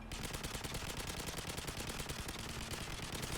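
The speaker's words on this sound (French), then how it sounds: "Avec la grosse mitrailleuse, ça va aller vite." A heavy machine gun fires in Modern Warfare 3 survival mode, a loud, continuous burst of rapid shots that keeps going without pause.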